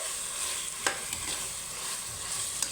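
Tomatoes sautéing in a pan for biryani, an even close sizzle running throughout, punctuated by a couple of distinct utensil taps and stirring scrapes.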